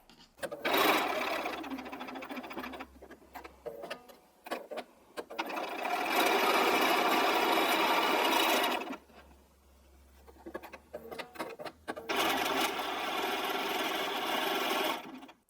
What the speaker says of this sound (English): So we're going to take all these to the machine. We're going to sew along that line